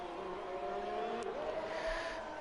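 An F1 race car in a racing video game pulls out of the pit lane with a steady, droning engine tone that rises in pitch as it accelerates. The sound is moderately loud and continuous, with faint crowd and track noise behind it.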